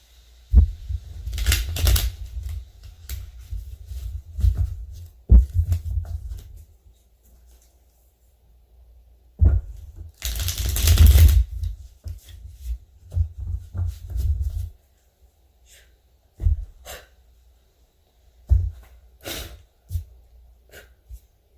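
Tarot cards riffled and shuffled in several bursts separated by quiet pauses, close and crisp, with soft handling sounds between.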